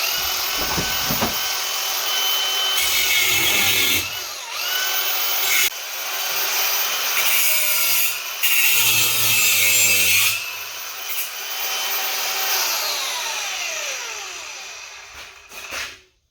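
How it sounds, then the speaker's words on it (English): Wood being cut for a home-built quarter pipe skate ramp, a loud, close, buzzing power-saw sound running in long passes with short breaks, then winding down at the end. "so I'll just need to cut this now."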